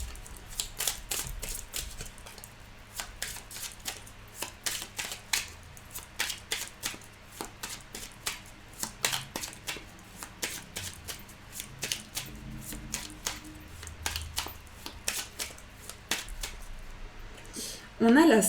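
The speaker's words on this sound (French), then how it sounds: "On va tirer 9 cartes." Tarot cards are shuffled and laid down in a long run of crisp, rapid snaps and flicks close to the microphone, with a soft background hum and a brief voice at the very end.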